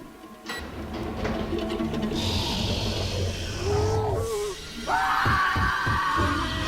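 SCP-096 yells and roars while fighting the Demogorgon in an animated clash, giving harsh screams and growls with sudden swells and effects, loud throughout and with no talking over them.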